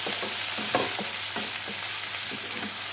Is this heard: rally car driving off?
no